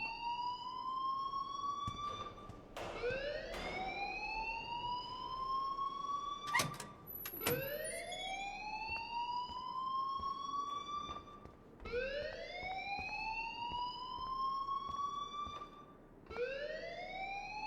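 A game alarm in Life Is Strange Remastered on Nintendo Switch: loud, repeated rising electronic sweeps, siren-like, cycling about every two to three seconds with brief sharp clicks in between, steady and alone.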